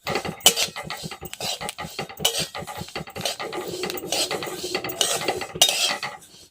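Fennel and ajwain seeds dry-roasting in a pan for sesame chutney, with a rapid run of scraping, clinking spoon-on-pan strokes close up and fairly loud, no talking.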